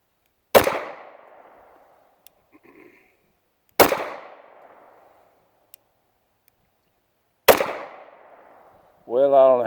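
Three sharp, loud pistol shots from a Girsan Compact High Power ring out at even intervals about three seconds apart, each followed by a decaying echo, with a brief voice at the very end.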